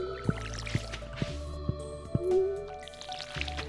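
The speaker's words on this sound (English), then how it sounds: "Gotta water all our crops first" Watering crops with a watering can in Stardew Valley: a run of short, soft splashy drips repeats about every half second over steady game music, fairly quiet and with no talk.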